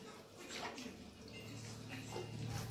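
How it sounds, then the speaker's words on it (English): Running water rinses thick leafy pak choy leaves, a steady faint splashing and trickling with soft irregular surges, fairly quiet and without speech. "You want to wash these lovely thick leaves off."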